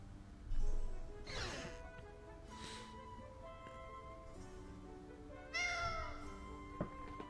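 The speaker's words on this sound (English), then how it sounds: "We're just terrorizing this poor cat." A cat meows in the video game Tales of Vesperia, several distinct tonal meows spread across the stretch with quieter pauses between, heard over a soft musical background.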